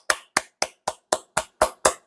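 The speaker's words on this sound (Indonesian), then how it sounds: "Tepuk tangan bagi Tuhan Yesus." A church congregation at a Pentecostal year-end service claps in a steady rhythm, nine sharp, loud, evenly spaced claps over about two seconds, with no voices over them.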